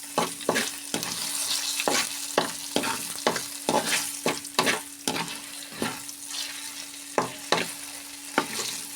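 Chana dal, cumin, mustard seeds and dried chilli tempering in hot oil for gongura pachadi, giving a close, steady sizzle broken by a dozen or so sharp, regular scraping strokes as the pan is stirred.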